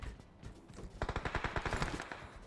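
Automatic gunfire in PUBG Mobile: after a quiet start, a rapid burst of a dozen or so evenly spaced shots rattles out, fairly faint and distant-sounding.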